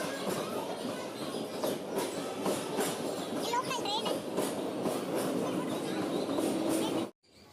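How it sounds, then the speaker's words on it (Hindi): Train rumble and rail clatter at a railway station, a steady broadband roar with some wheel squeal and people talking in the background, ending abruptly. "तो ये रहा रेलवे स्टेशन का व्यू"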